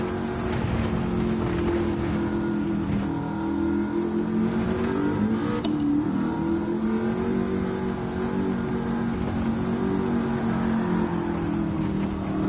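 An engine-swapped Pantera in Gran Turismo 7 growls under steady load, its engine note rising and falling slightly as it pulls through a corner, loud and continuous with no talking.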